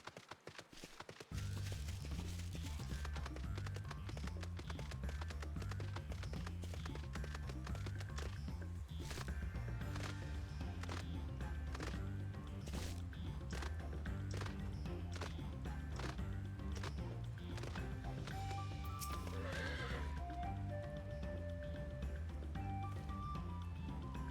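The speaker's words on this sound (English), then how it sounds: "Alright, here's the Titan horse" Rhythmic hoofbeats from a Titan horse mount in Final Fantasy XIV, steady and fairly close, running under loud, continuous game music with no talking.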